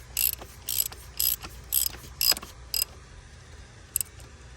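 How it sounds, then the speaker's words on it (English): A ratchet wrench clicks in short bursts while tightening bolts on a 2014 VW Jetta, about seven crisp ratcheting runs close to the microphone in a quiet space. "We'll take our wrench, switch it to righty-tighty. Get her tightened up."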